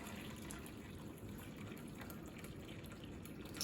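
Hot water heated on a stove is poured into a container at home, a steady low splashing and trickling of liquid that continues evenly throughout, fairly faint and close, with no voices.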